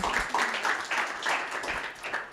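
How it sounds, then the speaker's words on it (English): Audience applause at a design conference session, a dense wash of clapping with a few rhythmic surges, fairly close and steady throughout, with no voices over it. "Round of applause, everyone."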